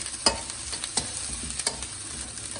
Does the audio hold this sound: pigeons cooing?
no